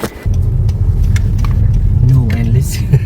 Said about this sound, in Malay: Okey, kita naik kereta Honda.